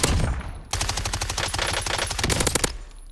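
Rapid submachine gun fire in a video game, one long sustained automatic burst of closely spaced shots that is loud and close, with no talk over it.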